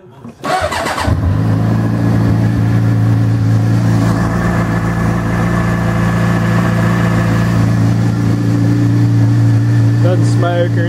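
Motorcycle engine cranks and catches after a brief start, then settles into a loud, steady idle that runs unbroken, close by.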